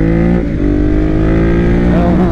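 A Ducati Monster 821 Testastretta roadster motorcycle pulls hard in third gear, its engine a loud, close, continuous throaty drone that rises steadily in pitch as it accelerates.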